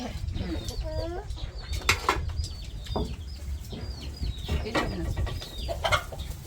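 Free-range village chickens cluck repeatedly at close range around a rural Thai home kitchen, with scattered short calls over a steady low background hum.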